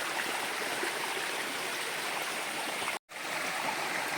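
Water pours steadily through a drain hole at the base of a wooden fish trap in a Konkan stream, a continuous close rushing wash that cuts out briefly near the end.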